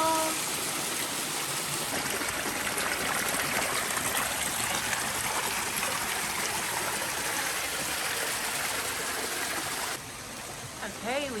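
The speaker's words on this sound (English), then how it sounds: "We've got some little waterfalls." Small waterfalls in a hot springs canyon in Arizona, a steady close rush of splashing water that fills the whole stretch without a break, with a brief faint voice near the end.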